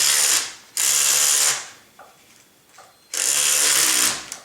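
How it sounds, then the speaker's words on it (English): Power screwdriver backing out rear screws on a Trex 700E RC helicopter, three loud close whirring bursts with a quiet pause and faint clicks between, no talking. "And we'll remove these rear screws."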